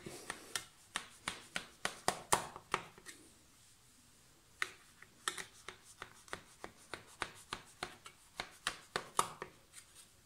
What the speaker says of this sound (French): Avec un couteau, je vais couper ma baklawa.